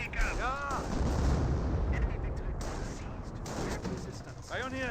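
Battlefield gunfire in Company of Heroes 1, a dense, loud rumble of rifle shots and explosions with whistling rounds, and a commentator talking over it.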